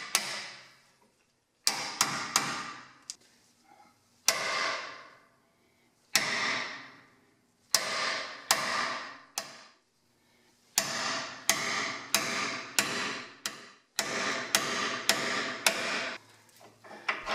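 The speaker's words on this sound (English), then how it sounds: "we can continue with separating the second ball joint. Do the same thing as you did the first time around and beat the crap out of that thing." Hammer striking a car control arm ball joint on a first-generation Mazda 6 or Ford Fusion front suspension, repeated sharp metallic blows in irregular bursts, some rapid and some spaced, loud and close.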